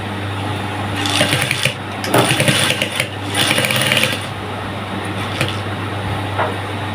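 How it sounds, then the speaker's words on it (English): A sewing machine stitches elastic onto the lining of a skirt band in close, rapid bursts of whirring needle strokes, broken by short pauses and a steady motor hum in between. "Also on this elastic, I'll just be sewing on the lining just like this."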